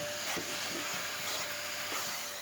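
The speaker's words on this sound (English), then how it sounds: "we vacuum the carpets once more to keep everything clean" A vacuum cleaner runs steadily on a car's carpets during cleanup after a heater core leak, a constant hissing drone with faint bumps and knocks as the nozzle moves, with no voices.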